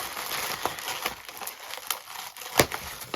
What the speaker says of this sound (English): Plenty of bubble wrap.